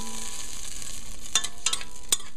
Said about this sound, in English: We are here to melt actually to get the butter melted